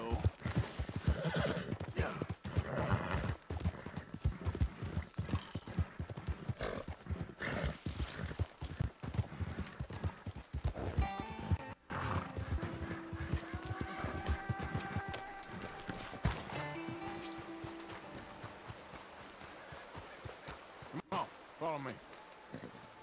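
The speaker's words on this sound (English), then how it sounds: "this one's a girl horse" A horse, a mare, whinnies loudly amid a fast, rhythmic clatter of hooves in Red Dead Redemption 2, with people chatting over the galloping throughout.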